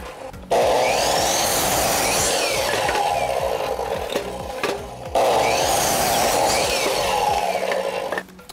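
Table saw ripping through wood on a carport framing job: two loud sustained cuts, each with a sharp start and a whining, rasping blade tone that stays steady, then a brief dip between them, close up with no voices.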